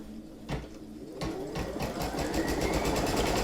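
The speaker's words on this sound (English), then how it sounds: "The green light has lit up on my machine, so I can now stitch step 1." A computerized embroidery machine sewing a placement stitch on fabric, a steady rapid mechanical whirring that starts after a couple of brief thumps and runs on continuously, close and fairly loud.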